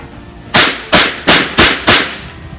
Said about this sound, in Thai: ทีนี้เดี๋ยวผมจะลองยิงเร่งจังหวะดูนะเร็วๆนะครับ